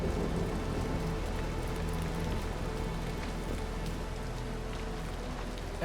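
Steady, continuous rain falls in The Caribou Trail video game, a dense even patter with scattered drop impacts at moderate loudness and no talk.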